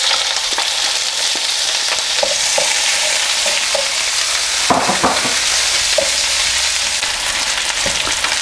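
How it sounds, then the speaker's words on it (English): Onions fry in vegetable oil in a wok for a Cantonese-style dish, a constant bright sizzle with intermittent scraping clicks of stirring, close and alone without voices. "the first thing we want to do is to fry the onions just for 2 or 3 minutes"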